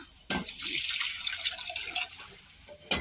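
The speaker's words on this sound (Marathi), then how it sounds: "डाळीत बघा पाणी टाकते मी गरम पाणी घेतलंय" Warm water pours in a continuous splashing stream into dal for a couple of seconds, then trickles and tapers off before a final clunk.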